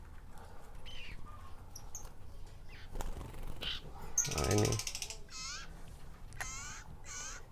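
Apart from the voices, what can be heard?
red prenjak bird calling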